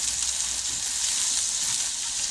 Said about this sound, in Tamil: கடாயில் இருக்கிற சூட்டில் இந்த கருவேப்பிலை வறுபட்டால் போதும்